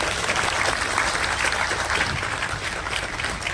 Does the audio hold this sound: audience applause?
yes